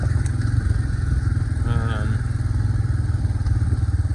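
A Yamaha Kodiak 450 ATV rides down into the woods on an abandoned woodland trail, its engine a loud, steady low rumble close by, with brief clattering from the rough ground.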